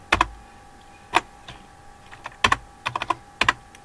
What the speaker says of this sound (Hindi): टाइपिंग करते हैं इसकी।